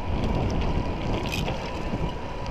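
Steady broadband wind rush buffeting the microphone while riding a Moustache electric bike into a headwind, loud and continuous throughout with no talk.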